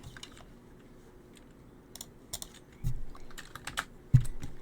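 Fingers tapping on a computer keyboard, a quiet run of irregular clicks that grows busier and louder toward the end, with no voices.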